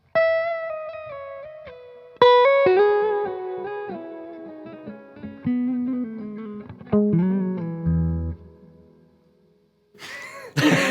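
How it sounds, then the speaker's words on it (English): Electric guitar played as a slow melodic line of single notes, each note ringing out with a long reverb tail that decays gradually between phrases, close and alone, with a brief breath near the end. "That's a long reverb."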